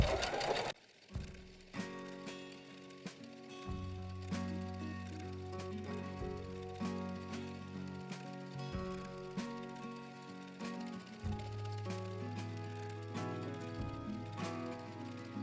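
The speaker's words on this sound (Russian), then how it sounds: "Вышивать я буду по лицевой стороне и буду двигаться в противоположном направлении" Sewing machine stitching decorative seams in black thread on a jute bag, running in steady rapid bursts separated by brief pauses, close and clear with no voices.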